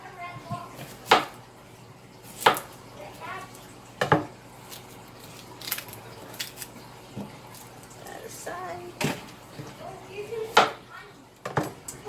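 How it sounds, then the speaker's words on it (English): A knife chops an onion on a cutting board for guacamole, giving about six sharp, separated knocks at uneven intervals, close by, against a quiet kitchen background. "An onion, we'll just chop an onion here."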